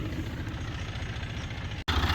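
A weed spray tractor fitted with a Phil Brown's spray boom idles in a steady, low, throbbing rumble, close and continuous, with a brief cut near the end.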